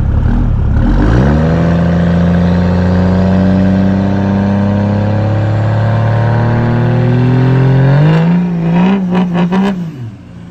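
A Ford truck engine pulls hard in first gear with boost, revving in a long rising drone that climbs steadily for several seconds before the pitch wavers and drops as the throttle eases, loud and close with no talk.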